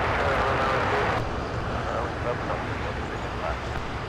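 A broad, roaring rush of jet noise rises from an airplane decelerating on runway 24R at LAX, loud at first and then easing to a steadier rumble, with wind buffeting the microphone and someone talking over it.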